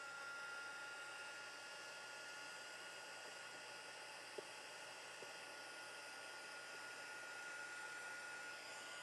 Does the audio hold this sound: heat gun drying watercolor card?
yes